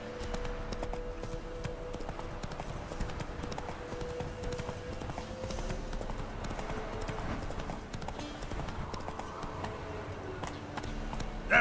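Roach the horse from The Witcher 3: Wild Hunt gallops with a fast, even clip-clop rhythm that carries steadily throughout, close and clear beneath a continuous low game soundtrack.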